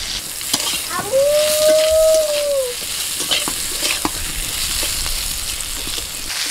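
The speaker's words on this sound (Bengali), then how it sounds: "পটলটা ভাজা হয়ে গেছে, তুলে নিচ্ছি।" Pieces of pointed gourd (potol), rubbed with salt and turmeric, fry in hot oil with a steady close sizzle and crackle, while a utensil scrapes and stirs in the pan, including one drawn-out metallic scrape.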